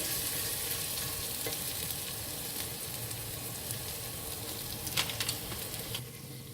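Garlic sautéing gently in a pan over low heat gives a steady, soft sizzle and bubbling, with a few faint clinks of stirring near the end.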